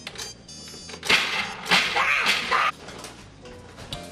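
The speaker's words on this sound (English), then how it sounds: "Do some noisy almond chopping." Knife chopping almonds on a board, a few loud crunchy bursts and clatter close up, with quieter scraping between.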